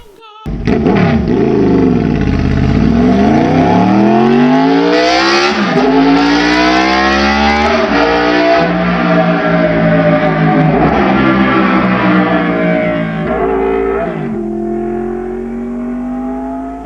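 A Royal Enfield Interceptor 650 style 781cc motorcycle engine, actually the stated 800 Interceptor, revs loudly and close, its pitch sweeping up and down repeatedly in long throttle blips before settling lower near the end.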